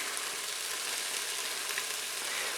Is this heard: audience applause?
no